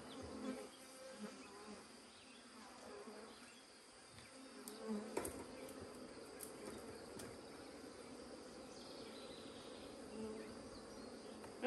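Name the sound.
bees buzzing in the rain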